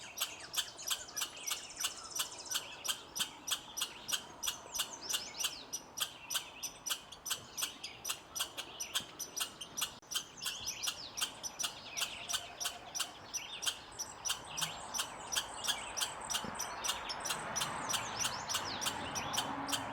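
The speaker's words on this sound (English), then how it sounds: "and that is the American goldfinch" An American goldfinch sings outdoors in a long run of rapid, high chirps and twitters, faint and steady against a soft background, with no talk.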